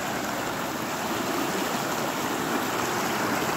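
The Rio da Caixa in Rio do Pires, southwest Bahia, runs high after rain, giving a steady, close, unbroken rush of flowing water with no voices over it.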